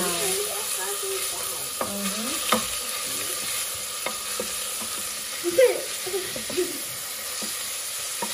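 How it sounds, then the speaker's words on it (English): Onion fries in a pan for chapati and beans, a constant soft sizzle with occasional clinks and scrapes of stirring. "So now we're going to cook our onion. We're going to fry it with the golden brown."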